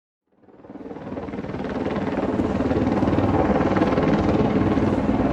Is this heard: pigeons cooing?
no